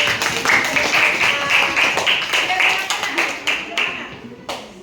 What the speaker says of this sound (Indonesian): kita beri tepuk tangan untuk kelompok kinestetik